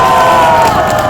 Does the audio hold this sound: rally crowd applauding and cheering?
yes